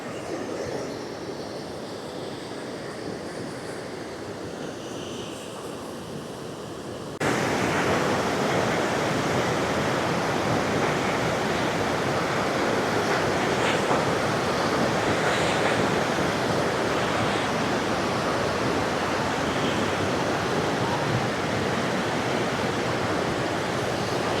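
Rushing water at the Valasampeta waterfall roars steadily, quieter at first and then suddenly much louder and fuller as the waterfall comes closer, continuing unbroken.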